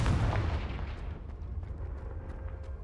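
Confringo blasting spell in Hogwarts Legacy: a single loud, deep explosion right at the start that rolls off into a rumbling, crackling tail, with faint debris ticks as it fades.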